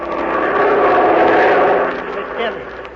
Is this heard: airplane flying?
yes